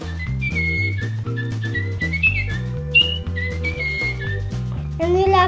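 A toy bird chirps a bright, warbling whistle over a steady low electronic tune, the whistle rising and falling continuously and loud up close.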